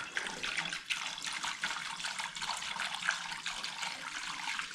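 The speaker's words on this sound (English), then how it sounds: "More filling with our 50-50 mix." A 50-50 coolant mix pours steadily into containers, a continuous close splashing, gurgling liquid stream with no talk, for a 1976 Pontiac Firebird 350 V8.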